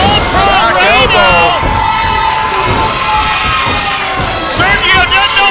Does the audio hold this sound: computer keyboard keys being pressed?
no